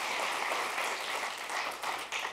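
Keynote audience at a Visual Studio 2015 developer event applauds, a moderate wash of clapping heard from a distance that swells and dips briefly.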